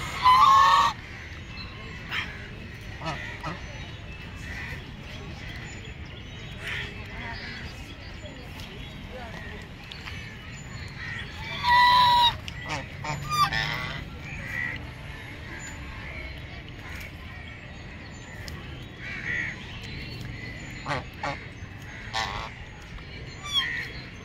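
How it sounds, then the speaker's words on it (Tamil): Ducks on the boating lake at Chetpet Eco Park in Chennai give loud, honking quacks in a few scattered bursts, close by, with people talking between the calls. "டக் பார்த்துருப்பீங்க, ஒரே 4-5 வாத்து இருந்ததுங்க"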